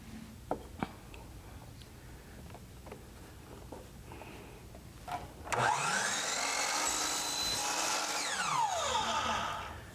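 A saw cuts through a small wooden hexagon box piece, starting about halfway in as a loud, steady whine that holds to the end, after a few faint knocks and handling sounds.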